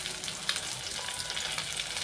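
Pieces of catla fish fry in hot oil, a steady bright sizzle with soft crackles and a faint pop, continuous and fairly quiet with no talking.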